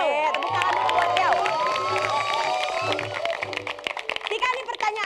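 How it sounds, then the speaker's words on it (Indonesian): A studio audience on an Indonesian comedy quiz show claps and cheers for a caller, lively crowd noise with whoops and shouts mixed under a host's speech and background music. "Oke, tepuk tangan dulu buat Riau."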